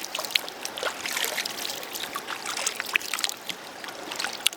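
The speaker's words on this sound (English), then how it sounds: "This is a lot of water coming here. This is the river." River water in Zimbabwe runs into a pool with a light, bubbling trickle and scattered splashes and drips, close and moderately soft, no speech.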